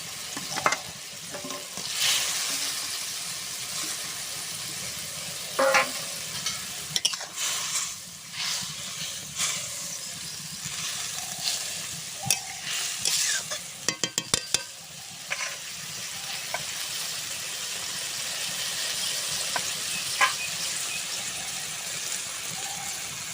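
Fish curry bubbling and sizzling in a pan as fried tilapia pieces go in, with scraping stirs, clinks and sharp spitting bursts over a steady frying hiss.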